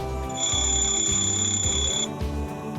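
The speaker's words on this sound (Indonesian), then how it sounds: "Yang pertama ada jam beker. Jam beker ini memiliki bunyi yang sangat panjang." A bell-type alarm clock rings in one long continuous electronic trill, loud and steady for about two seconds, then cuts off with no speech over it.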